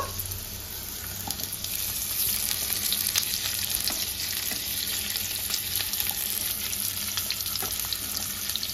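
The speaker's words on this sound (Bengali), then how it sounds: "কাঁকরোলগুলো একটু ভেজে নেব।" Steamed pointed gourd fries in hot white oil in a wok, giving a steady, close, dense sizzle with faint scraping stirs throughout and no talking.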